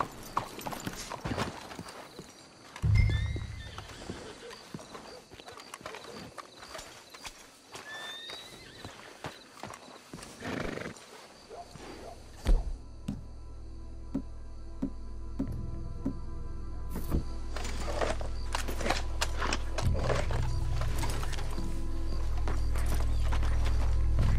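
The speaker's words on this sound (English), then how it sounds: "Let's hitch the horses up ahead." Horses' hooves in the video game Red Dead Redemption 2 clip-clop steadily at a walking pace, with an occasional neigh, over a low rumbling ambience that grows louder toward the end.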